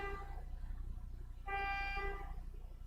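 Car horn honking nearby, two sustained tonal blasts with a short gap between them, the second one louder, over a low background hum.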